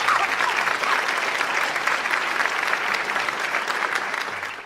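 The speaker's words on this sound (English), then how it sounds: "they deserve nothing but the finest pre-recorded studio applause" Sustained applause from a large crowd, dense clapping at a steady level throughout, fading slightly at the end.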